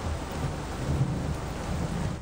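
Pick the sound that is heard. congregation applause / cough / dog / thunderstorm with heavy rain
thunderstorm with heavy rain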